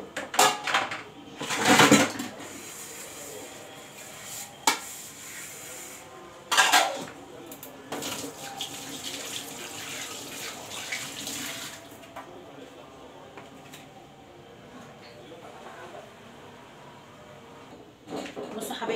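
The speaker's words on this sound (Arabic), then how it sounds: "خلاص انا شطبت الحوض بتاعي وروقت مطبخي" Dishes and pots being washed in a home kitchen sink, with running tap water in bursts and clinking of pans and cutlery, loudest in a few splashy moments and quieter rattling in between.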